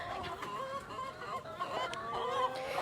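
Backyard chickens cluck softly in a chicken coop, with uneven overlapping calls that rise and fall quietly against a faint background.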